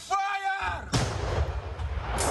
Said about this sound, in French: D'autres canons tirent en concert, appui d'un assaut à l'aide de leur artillerie.